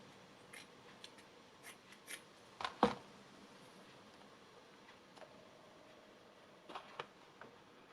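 Scissors snip through fabric pieces in a scattering of quiet, close cuts, with one louder crisp snip in the middle and a couple more near the end.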